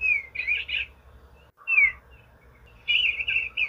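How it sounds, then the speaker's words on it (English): Eastern bluebird song: clear chirping whistled phrases in three bursts, a warbling call, a short break, then another phrase and a longer run of notes, close and alone over faint background hum. "Eastern bluebird."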